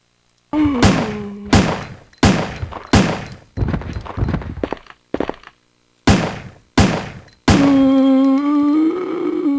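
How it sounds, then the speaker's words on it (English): Handgun fire aimed at a zombie in Resident Evil 3: Nemesis, with seven sharp, loud shots in uneven rhythm, each followed by a short decay, and a sustained tone rising after the last shot. "now let's test that handgun on a zombie"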